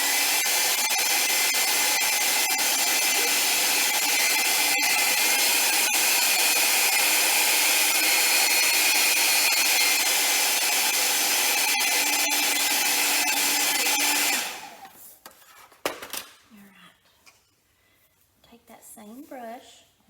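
A hair dryer runs steadily to dry paint on a carved horse head, a loud continuous whir that stops abruptly near the end, leaving quiet handling noises.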